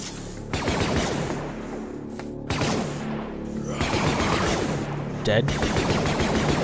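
E11 blaster plasma shots from the Star Wars Deathtroopers video game, several bursts of rapid firing with brief pauses between volleys, loud and close, with a voice speaking briefly between shots.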